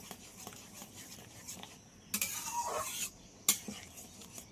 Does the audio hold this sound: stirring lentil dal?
yes